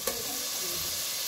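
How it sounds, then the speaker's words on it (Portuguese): Onion frying in hot oil with salt and crushed garlic gives a steady, dense sizzle that holds evenly throughout, close and alone with no voices. "já tá a cebola fritando, já tá o sal com alho pisado, já dá uma fritada aí também"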